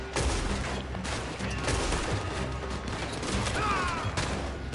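A Red Dead Redemption 2 gunfight, with a dense fusillade of distant and near gunshots crackling continuously amid outdoor game ambience.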